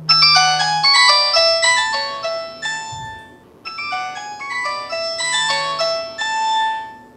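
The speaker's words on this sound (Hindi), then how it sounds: "और ये अब आपको इस फ़ोन की साउंड सुनाई है" A loud polyphonic Nokia 105 4th Edition ringtone plays a bright, bouncy melody, pausing briefly midway before the tune repeats.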